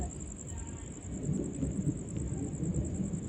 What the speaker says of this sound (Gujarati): વાવાઝોડું